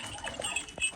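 A brief, soft whimper or whine from a Kangal dog, faint and close, with a short higher cry near the end.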